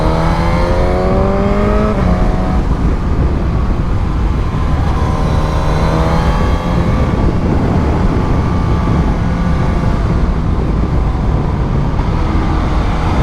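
A Suzuki GSX-S 1000 motorcycle engine runs loud and steady while riding, with harmonic tones rising through gears in several sweeps, a brief shift around two seconds, and constant wind and road roar underneath.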